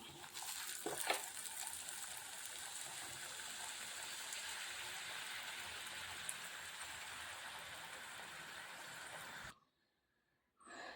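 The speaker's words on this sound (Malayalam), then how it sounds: "എണ്ണ ചൂടായി നമുക്ക് ഇട്ട് കൊടുക്കാൻ പൂരി" Puris sizzle steadily in hot oil, a dense crackling hiss that runs close and unbroken. A brief louder spatter comes near the start, and the frying cuts out almost completely just before the end.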